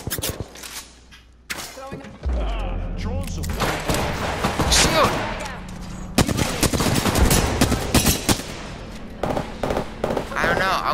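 Gunfire in the Apex Legends battle royale game, dense bursts of automatic shots and impacts running through most of the stretch, with players talking over the shooting.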